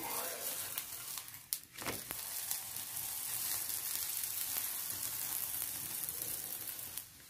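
An aloo gobi pyaz paratha fries in ghee on a griddle with a steady, moderately quiet sizzle, broken early by a few brief handling knocks and rustles.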